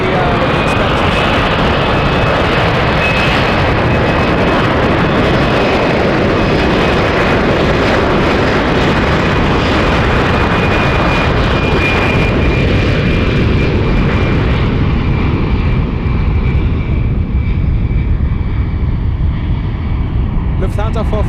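A Lufthansa airliner passes near the Golden Gate Bridge at about 13,000 feet, its steady engine roar filling the whole stretch and slowly easing off toward the end, with talk over it.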